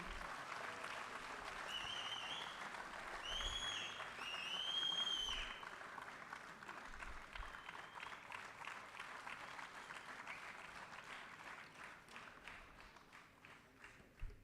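An audience at an award presentation ceremony applauds, a dense wash of clapping that swells early and then thins and fades over many seconds, with a few faint voices in the crowd.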